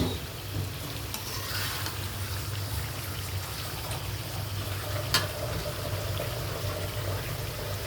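Chicken pieces stir-fry in a pan for kosha with a steady, moderate sizzle and frequent light scraping and stirring, with no speech.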